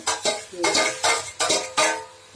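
A spatula works through spiced water spinach curry in a pan, giving rhythmic scraping strokes about every half second, close and clear, with a light sizzle beneath them.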